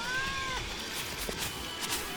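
A cat meowing inside the Terraria video game, faint drawn-out cries heard over a low, busy game background, with no one talking.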